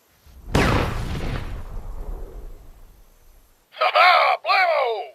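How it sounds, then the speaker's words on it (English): A big explosion in Red vs Blue Halo machinima: a sudden loud blast followed by a long rumbling decay, then two short bursts of voiced exclamation. "That explosion was awesome!"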